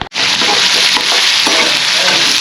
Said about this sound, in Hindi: तो यहाँ पे पड़ेगा मेरा तड़का